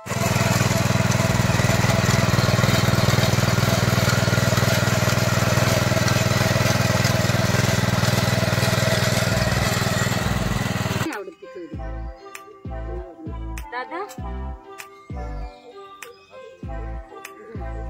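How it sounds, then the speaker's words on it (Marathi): A tractor ploughs a farm field in Konkan with a loud, steady engine drone for about eleven seconds, then the sound cuts to quieter, choppy noises. "आमच्याकडे हा असा ट्रॅक्टर आहे"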